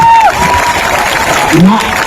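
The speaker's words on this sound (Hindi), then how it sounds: "एक बार जोर से ताली बजाइए, तो बजाइए जोर से ताली।" A crowd at a Jan Suraaj Party political rally in Bihar applauds, a loud continuous clapping wash with scattered cheering and voices mixed in, and a reverberant loudspeaker tone briefly audible.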